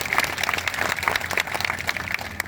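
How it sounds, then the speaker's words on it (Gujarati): A crowd at an outdoor political rally in a village claps, dense continuous applause at moderate volume with no voices over it. "એના માટે આપણે જોરદાર તાળીઓ કરીએ."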